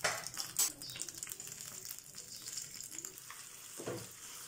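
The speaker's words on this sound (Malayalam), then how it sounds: "ഇനി ഇതുപോലെ തന്നെ നമുക്ക് രണ്ടാമത്തെ സെറ്റും നമുക്ക് ഇതേപോലെ ഇട്ട് വറുത്തെടുക്കാം" Fish frying in a pan for fish molee, a steady soft sizzle with a few brief louder crackles and clinks, close by, no voices.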